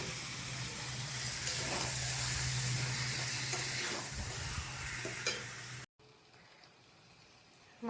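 Yogurt-marinated meat sizzles and fries steadily in a little oil, with occasional stirring scrapes, then the sound drops abruptly to a quieter simmer near the end.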